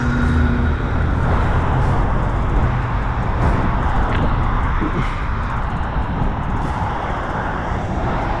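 A car driven across a lot toward a nine-car hauler: steady engine and tire rumble close by, holding fairly loud for several seconds with slight swells, no speech.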